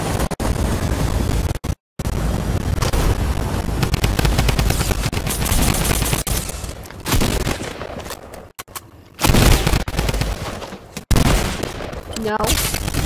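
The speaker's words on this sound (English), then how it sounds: "Somebody with bad aim is trying to shoot me." Rapid bursts of gunfire in the video game Fortnite, dense machine-gun-like volleys with short gaps, loud and close, running nearly throughout with brief pauses.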